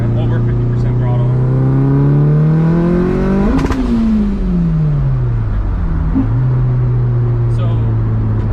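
A Mitsubishi Evo 5 engine revs hard in third gear, its loud tone climbing steadily to the limiter, then dropping away and settling back, with voices talking over it.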